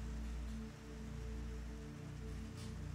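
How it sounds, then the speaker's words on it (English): Rain falling outside a café in Lisbon, a soft, steady patter with a low rumbling hum beneath, faint and continuous with no voices. "amidst the rain"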